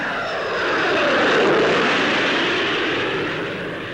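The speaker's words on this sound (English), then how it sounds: "here, installed under an Ashton, is the Rolls-Royce Conway bypass engine, a major advance in gas turbine technology." Avro Ashton aircraft fitted with a Rolls-Royce Conway bypass engine flying past, a loud jet roar that swells to a peak and then slowly fades away.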